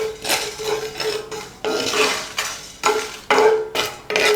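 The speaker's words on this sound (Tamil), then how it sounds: "2 கிராம்பு, 2 காஞ்ச மிளகா சேர்த்து இதை நல்லா வாசம் வர்ற வரைக்கும் வறுத்துக்கலாம்." Cinnamon, cloves and dried red chillies dry-roast in a pan, stirred with a utensil that scrapes and clinks against the metal in repeated strokes, close and fairly loud, with no talking.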